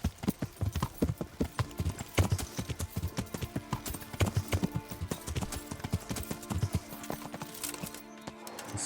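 Horse hooves clip-clop in a steady, brisk rhythm while riding in Kingdom Come, loud and close throughout, with a brief whinny and little else around them.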